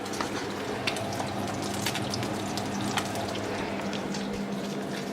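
Leftover bacon fat sizzling in a frying pan, a steady close crackle with sharp spits and pops throughout, with no voice over it.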